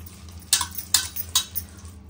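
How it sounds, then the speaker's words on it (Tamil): A spoon scrapes and knocks against a bowl while tandoori chicken marinade of masala, yogurt and lemon is mixed, three distinct close clinks over a soft, quiet background, no voices. "மசாலா எல்லாமே நல்லா மிக்ஸ் பண்ணிக்கலாம்."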